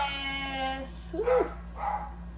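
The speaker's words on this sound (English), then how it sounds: "Sorry guys if my dog is barking" Dog indoors giving a couple of brief, somewhat muffled barks or yips partway through, set against a steady hum and a fading tonal sound.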